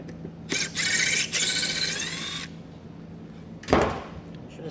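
A power screwdriver backs two Phillips head screws out of a vehicle taillight in two close whirring bursts, followed after a pause by a short clunk or scrape of the part.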